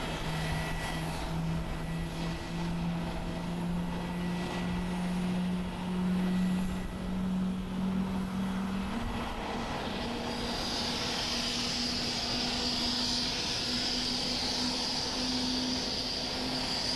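A jet airliner in Pokemon livery at Haneda Airport in Tokyo, bound for CTS, gives a steady engine roar with a sustained drone and a rising whine partway through. It is heard at a moderate distance with no talk.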